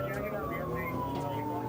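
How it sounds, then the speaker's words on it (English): Emergency siren wailing during a chase, a loud, steady, falling tone with a voice talking over it. "The siren wailed."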